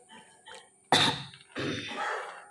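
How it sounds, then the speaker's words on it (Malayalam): Two sharp, close coughs in quick succession, the second one rougher and more drawn out, with a quiet room behind. "പപ്പയൊക്കെ ചുമച്ച് തുടങ്ങി"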